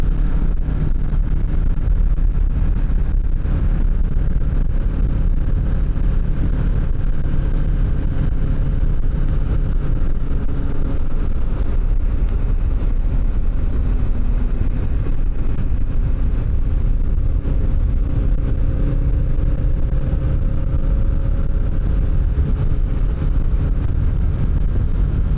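A 2025 Kawasaki Ninja 650 cruising along the road, its steady engine drone buried under a constant, heavy rush of wind across the microphone for the whole stretch, with no talking.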